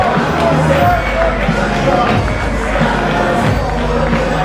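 Dense, loud crowd roar filling a professional wrestling arena, a continuous babble of cheering and shouting voices with no breaks, a commentator talking over it.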